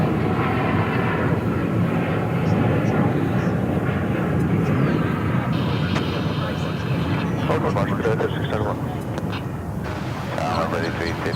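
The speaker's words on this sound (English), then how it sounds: "let's watch this Air Cal livery take off for you on Runway DFW" Airliner in Air Cal livery taking off from a runway at Dallas/Fort Worth airport, a loud, sustained jet engine roar that holds steady, while a voice speaks over it.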